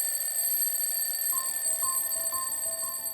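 An alarm clock rings in repeated short, high-pitched bursts that start partway through, sounding over a steady background hum.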